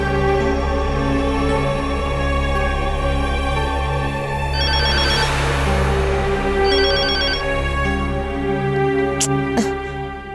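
A telephone rings repeatedly in a steady electronic pattern for ten seconds, loud and close, with the call going unanswered under a sustained musical backdrop.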